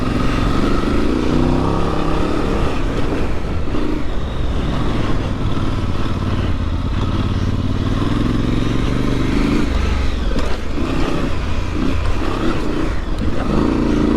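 Adventure motorcycle engine running steadily in normal mode with a soft throttle, a continuous low drone with wind rush and mild rises in pitch while riding at a gentle pace, loud and close with no talking.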